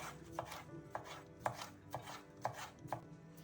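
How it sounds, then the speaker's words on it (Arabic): A knife slices vegetables such as onion and pepper lengthwise on a cutting board, making about six evenly spaced, crisp chops up close, with no talking. "نقسم الواحدة بس اتنين ونقطع شرايح بشكل طولي بالشكل ده"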